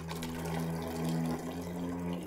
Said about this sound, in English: I'm pouring in vinegar